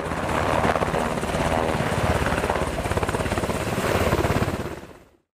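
A U.S. military helicopter flies close by during a troop operation, with a loud, steady rhythmic thumping of rotor blades that fades and cuts off at the end.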